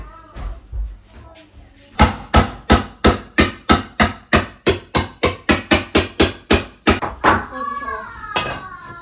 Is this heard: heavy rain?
no